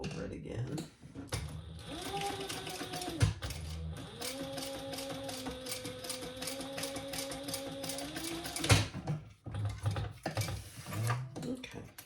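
A sewing machine stitches back over the thick hardware of a crossbody bag, its motor whirring steadily with a rapid stitching rattle, pausing briefly and starting again, close and fairly loud.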